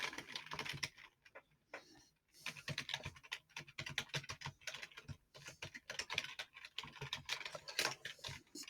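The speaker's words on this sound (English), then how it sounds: "Type in your email." Someone types an email address on a computer keyboard, producing close, quiet, rapid key clicks in uneven bursts with brief pauses between them and no talking.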